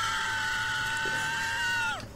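A man's scream played back from a phone recording, a high, sustained wavering cry that holds steady and then drops off sharply near the end, thin and slightly distant.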